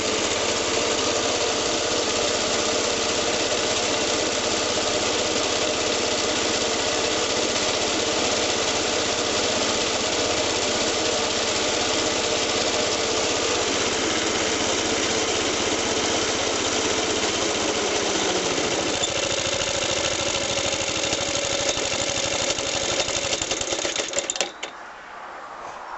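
A small engine idles steadily and loudly close by while warming up, its even, rattly drone continuing for over twenty seconds before abruptly cutting out near the end.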